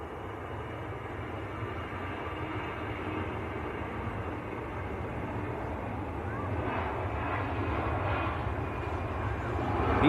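EasyJet airliner bound for Copenhagen at Manchester Airport, a low engine rumble that swells steadily and grows louder toward the end.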